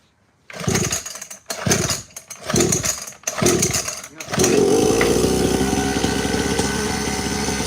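A pit bike engine cranks through several loud, rhythmic pulls before catching and settling into a steady, buzzing idle close by.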